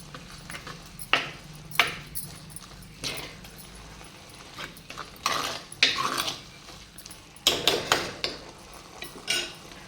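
A spoon scrapes and clinks against a metal pot in irregular bursts while chili powder is stirred into a tamarind okra curry, close and fairly loud, with short pauses between strokes.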